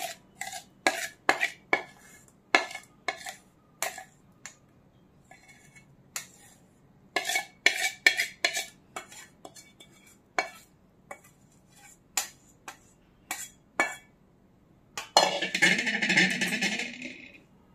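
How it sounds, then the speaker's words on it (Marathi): Melted jaggery being mixed into a makhana laddu mixture, with a spoon repeatedly clinking and scraping against a metal pan in irregular taps, ending in a longer burst of sizzling, rustling stirring. "आपण आता या मिश्रणामध्ये हा पातळ करून घेतलेला गूळ घालूया."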